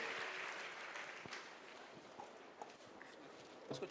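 An audience applauding to honour guests at an inauguration ceremony in Udaipur, Rajasthan, a faint, steady wash of many hands clapping from a distance.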